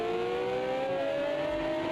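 A Ferrari 333SP race car in a racing video game at Fuji: a steady, high engine whine with its pitch slowly climbing under acceleration, loud and continuous, with no voices.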